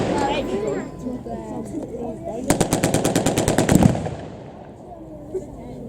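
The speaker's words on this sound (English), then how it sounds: "The unmistakable sound there of the MP40, the Schmeiser machine gun." Rapid burst of MP40 Schmeisser submachine gun fire at an outdoor battle reenactment display at a foundry, a loud rhythmic string of shots lasting about a second and a half, with crowd chatter before and after.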